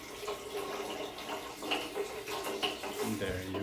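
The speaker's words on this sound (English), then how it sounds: "what I'm going to do is put water with ice and then stop the boiling" Ice water is poured over boiled carrots being prepared for Cádiz-style marinated carrots, a continuous splashing, running-water wash with a few clinks near the close, fairly close by.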